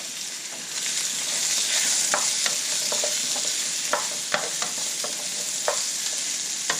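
Zucchini stir-frying in a hot pan before eggs go in, a bright continuous sizzle with scattered crackles and light spatula scrapes, close up and steady, no voices.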